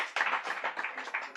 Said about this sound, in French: applaudissez pour le monsieur